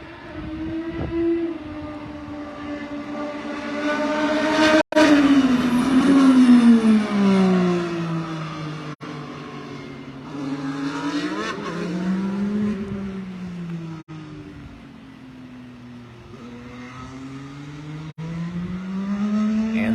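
IndyCar race cars run engine tests on the oval at Indianapolis Motor Speedway, their high-pitched engines screaming and sweeping up and down in pitch as they pass repeatedly, some closer and louder than others.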